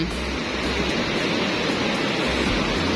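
Big ocean waves churn and crash around a small wooden boat at sea, a loud, unbroken wash of surf and spray close by, with no voices over it.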